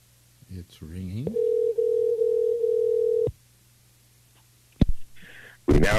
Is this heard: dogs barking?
no